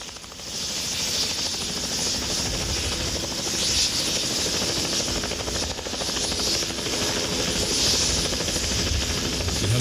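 A helicopter flies over the Grand Canyon, its rotor and engine making a loud, steady drone that holds for the whole stretch.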